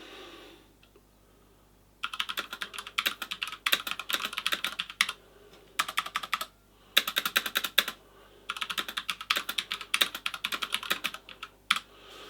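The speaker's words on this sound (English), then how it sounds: "This is going to show you roughly how loud the keyboard is typing." Fast clacky typing on an Adata XPG Summoner mechanical keyboard with Cherry Silver switches, in bursts with short pauses between runs of keystrokes, close and crisp.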